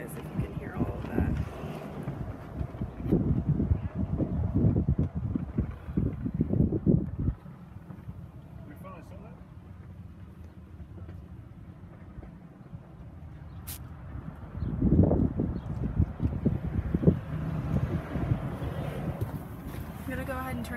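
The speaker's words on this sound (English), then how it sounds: "it's very windy here today, so I apologize if you can hear all of that." Gusty outdoor wind noise around a parked 2016 Audi S3 Prestige, a low rumbling buffet on the microphone running throughout, under and between stretches of a person talking.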